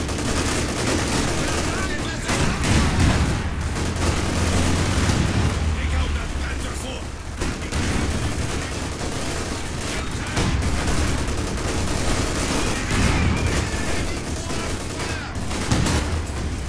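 Dense, sustained gunfire and explosions from a Company of Heroes 2 battle at the Stalingrad rail station, with rapid machine-gun bursts and heavy blasts rolling continuously, loud and close, while voices are heard underneath.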